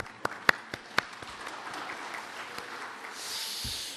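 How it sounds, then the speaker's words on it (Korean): A church congregation gives a short burst of applause: a few sharp, separate claps at first, then a faint, scattered patter that swells softly toward the end in a quiet room. "하나님께 영광 박수 드리겠습니다."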